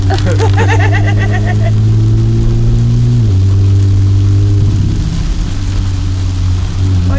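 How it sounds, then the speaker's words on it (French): Rain falls on a car while driving, a broad wet hiss over a steady mid-pitched engine drone that drops in pitch partway through, loud and close the whole time, with no speech. "Il pleut."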